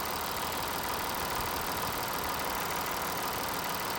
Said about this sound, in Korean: 엔진음이 이렇게 일정해야 돼요.